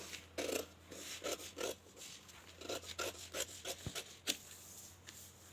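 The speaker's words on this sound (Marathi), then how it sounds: "आता ही फिटिंगची सरळची रेष कट करून घ्यायची." Scissors cut through a paper pattern for a katori blouse, with a run of short rasping snips in an uneven rhythm, close and quiet, alone without talk.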